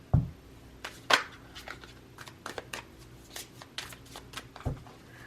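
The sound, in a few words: shuffling tarot cards for a clarifier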